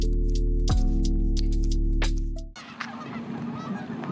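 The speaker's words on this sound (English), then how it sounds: "We've got transit-oriented geese." Geese honk loudly at a train station in a series of sharp nasal calls over a steady low hum. The scene then cuts to a noisier, rumbling background with faint calls in the distance.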